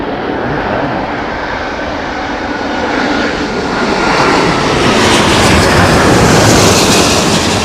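A Boeing 777 jet lands at London Heathrow in strong winds, its engine roar loud and broadband, building gradually as the aircraft draws nearer, with wind adding to the rush.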